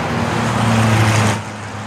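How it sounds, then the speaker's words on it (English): Steady city street traffic, a continuous roadway wash with a low engine hum from passing vehicles, near and fairly loud, easing slightly toward the end. "See all that traffic?"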